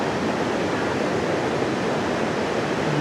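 A waterfall in Paraguay roars as steady broadband white water, continuous and close, with no voices.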